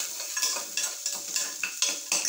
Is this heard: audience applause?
no